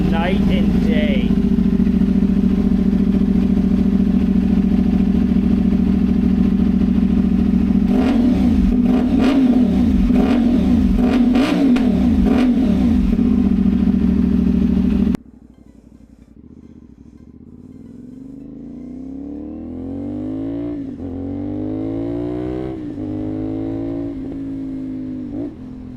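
A CFMOTO 450SS motorcycle with an IXIL exhaust idles loudly, then is revved in several sharp bursts before cutting off. A quieter, more distant engine then builds through rising and falling revs.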